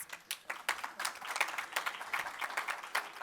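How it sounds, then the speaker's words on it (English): A round of applause breaks out among the audience at a public sector debate competition grand finale, many hands clapping steadily and fairly close, with no voices over it. "That deserves a round of applause."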